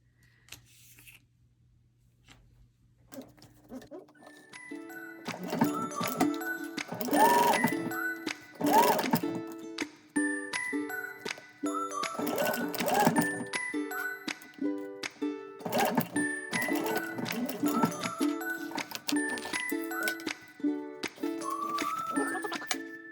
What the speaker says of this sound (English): I took it back to the machine and did a second row of stitching right along the other edge